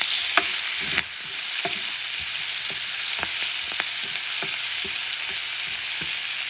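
Spinach sizzles and fries in a hot pan for a shrimp sandwich, a steady loud hiss broken by repeated sharp clicks and taps of stirring, with no voices.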